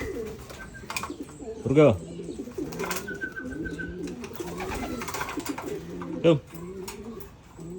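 Pigeons coo in a loft during free-flight training, a couple of short rolling coos standing out over a background of someone talking and calling to the birds.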